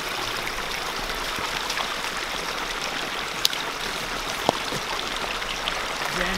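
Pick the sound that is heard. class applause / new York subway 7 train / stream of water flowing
stream of water flowing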